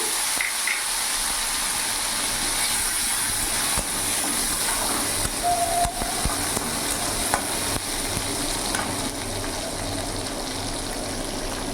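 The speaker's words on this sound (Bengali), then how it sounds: "কালো জিরে ফোড়ন দিয়ে দিলাম এরই মধ্যে আমি একটা টমেটো কুচো দিয়ে দিলাম" Chopped tomato sizzling and frying in hot oil with black cumin tempering for a Bata fish curry, a steady close crackle and hiss running throughout with occasional stirring and no voice.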